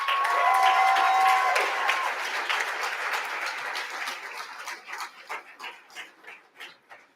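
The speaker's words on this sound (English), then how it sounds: "Let's have a big round of applause" Loud applause from a crowd at a university leadership awards night, dense clapping at first that thins into scattered, separate claps as it fades over several seconds.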